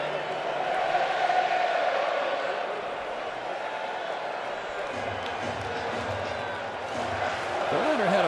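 A baseball stadium crowd at the 2014 ALDS Game 2, Tigers vs. Orioles, makes a steady, distant roar throughout, with a broadcaster's commentary running over it.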